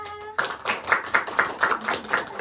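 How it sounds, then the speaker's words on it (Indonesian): Classroom applause after a game, a short rhythmic burst of clapping with evenly spaced beats, close and fairly loud. "tepuk tangan untuk mereka"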